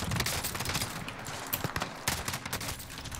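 Gunfire from a weapon in Call of Duty: Warzone, a fast run of sharp shots over a busy, dense game background.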